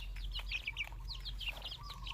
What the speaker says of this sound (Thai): แม่ไก่ตัวนี้นะคะ ไก่ตัวนี้จะเป็นรุ่นพี่นะคะ